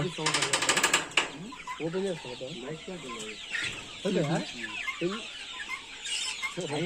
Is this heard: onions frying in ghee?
no